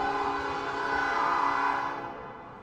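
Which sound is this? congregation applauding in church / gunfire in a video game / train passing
train passing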